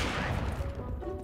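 Gunfire in a first-person shooter video game, a short dense burst of shots filling the moment, loud and close, with no voices.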